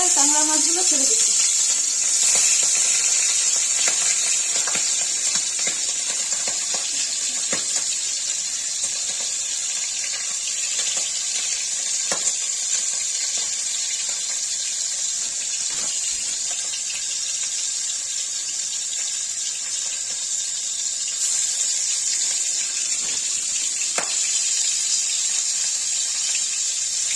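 Tangra fish frying in hot oil in a heated wok, a constant bright sizzling hiss with occasional sharp pops and crackles scattered across the long stretch.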